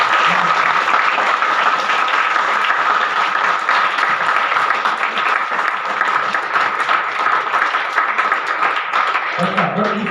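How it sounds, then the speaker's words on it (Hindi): Loud, sustained applause fills a hall as students at a Q&A session with top IIT exam rankers clap steadily and densely throughout, with crowd noise mixed in. "उसके लिए जोरदार ताली हो जाए।"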